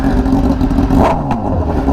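A sport motorcycle, likely a big-piped BMW, revved hard outdoors on the street, a loud close engine roar swelling in a brief blip.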